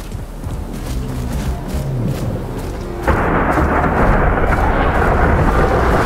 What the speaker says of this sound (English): Got some kind of storm brewing